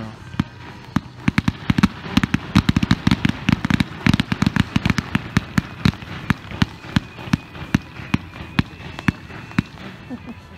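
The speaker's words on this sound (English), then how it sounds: "Now we're going to do another pro line item, 70 shot Z photo flash bombard." A 70-shot Z photo flash bombard firework cake fires outdoors at a demo, a long run of sharp bright cracks and bangs, dense and rapid early then spacing out, loud and close throughout.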